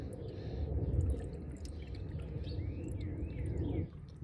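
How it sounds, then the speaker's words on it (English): Water pours from a small watering can into the priming port of a Vevor garden jet pump, a steady close trickle and splash lasting several seconds before it stops abruptly near the end. "now I've got a little watering can that I'll use to fill this up"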